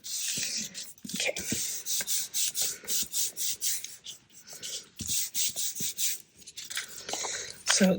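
A bone folder or burnishing tool rubs firmly over folded paper on a handmade ephemera pouch, giving close, repeated scraping strokes in uneven bursts, with a few soft taps and handling noises between them.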